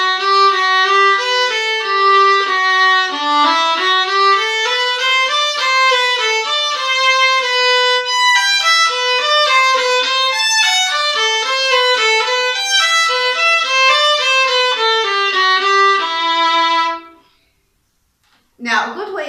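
Violin eighth notes from Küchler op.11, played as a steady run of even, bowed notes at a strong level for about seventeen seconds before stopping, with a brief sound after the pause.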